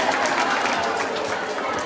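A crowd at an Italian parish youth end-of-season show claps in a brief burst, close and fairly steady, with voices mixed in.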